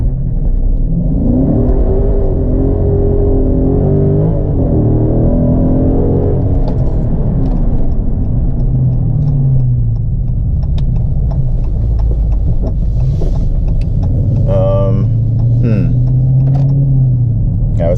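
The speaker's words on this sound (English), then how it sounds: "To launch, press brake and quickly apply full throttle." A Dodge Charger Daytona 392 engine rumbles and revs under launch control, its exhaust note rising and falling as it pulls away, loud and close inside the cabin while someone talks over it.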